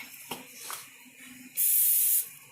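A cooking spray is released onto a hot pan in a short, loud hiss lasting under a second, after a few faint clicks and clatters of the cookware.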